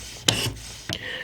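Two quick rasping strokes of a knife blade drawn across a hard diamond sharpening stone, each a short gritty scrape close by, with a brief pause between them and no voices.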